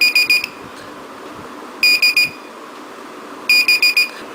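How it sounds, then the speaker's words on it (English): Piezo buzzer on a smoke alarm kit sounding in three short bursts, each a rapid string of four or five high, loud beeps, with quiet gaps between bursts. "it automatically turns on the buzzer and the LED."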